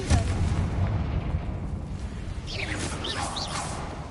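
Confringo blasting spell in Hogwarts Legacy, a dense rumbling explosion with a sustained roar that trails off into whooshing debris, loud and full throughout.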